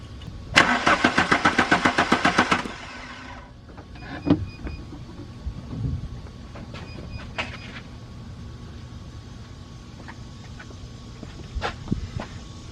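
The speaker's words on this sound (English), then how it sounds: "Crank the engine over and see if any fluid goes in there." A Mk3 cabrio's engine, not getting fuel, cranks over with a rapid, rhythmic churning for about two seconds, then stops, leaving faint clicks and quiet shuffling.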